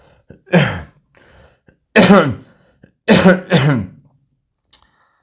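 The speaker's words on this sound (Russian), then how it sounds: "Извините, я пока, покашлю." A man with bronchitis coughs in several harsh bursts, a single cough followed by a pair of loud close coughs and then a quieter double cough, with short silent gaps between them.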